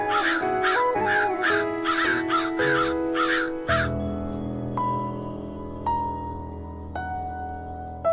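A crow caws loudly about nine times in a quick, even series, then falls silent as music continues alone.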